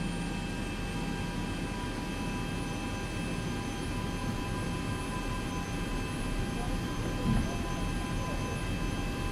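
In the X-Plane flight simulator at Los Angeles International Airport, an airliner's jet engines give off a steady, continuous roar with a faint whine riding on top and a brief thump partway through.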